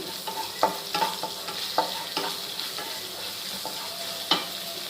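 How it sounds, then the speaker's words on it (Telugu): Ginger garlic paste frying in oil for a ridge gourd curry base, a steady close sizzle broken by repeated scraping stirs of a spoon against the pan, no voices. "అవి ఫ్రై అవుతున్నప్పుడు అల్లం వెల్లుల్లి పేస్ట్ వేసుకోండి"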